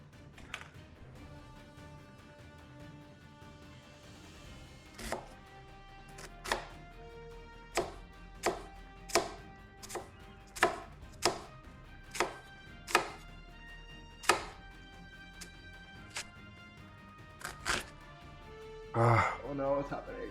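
Onion being chopped with a knife on a board, a run of sharp, separate thuds spaced about a second apart with a brief quicker flurry at the end, close up, while a person talks intermittently.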